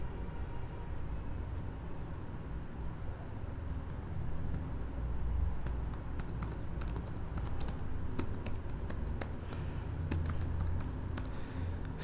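Keys clatter on a computer keyboard while text is typed into the InPage Urdu software. Close, scattered clicks build into quicker bursts over a low steady hum.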